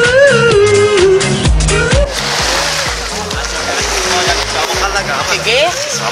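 Water is thrown and splashes in a broad, rushing wash that starts about two seconds in and keeps churning to the end, following a loud voice at the start, with voices over the splashing.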